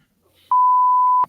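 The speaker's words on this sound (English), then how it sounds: "I got a beeper." A beeper gives a single steady electronic tone lasting under a second, clear and alone in an otherwise quiet room.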